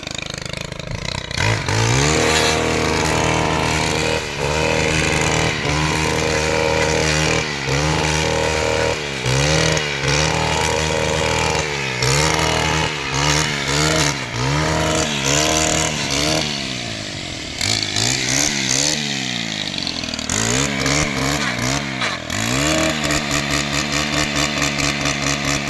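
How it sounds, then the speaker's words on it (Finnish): A Husqvarna 140-class four-stroke brush cutter engine revs again and again, loud and close, swinging between idle and a buzzing limiter whine in repeated bursts for the whole stretch. "Tässä on hyvin alavääntöä tässä koneessa nelitahtis papin myötä."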